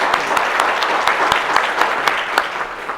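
An audience at a chamber of commerce achievement awards ceremony claps warmly, producing dense, sustained applause that stays loud throughout with no voices over it.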